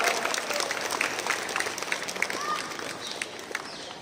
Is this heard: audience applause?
yes